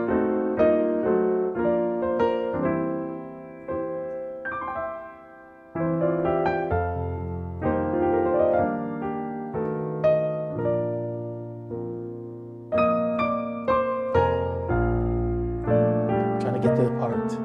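A slow ballad from The Preacher's Wife played by ear on a melodic instrument, unhurried sustained chords and melody notes with short pauses between phrases, alone and moderately quiet.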